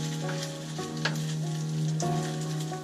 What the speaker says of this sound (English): I'm just going to kind of turn them over with the spatula and break them up as much as possible